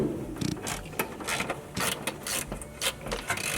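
Valve cover bolts on a Ford F100 being tightened with a ratchet: quick close clicking runs of the pawl in short bursts, with brief pauses between turns, and no voices.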